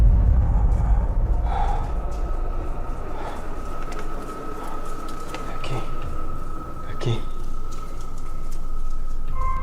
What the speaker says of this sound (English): they hear someone breathing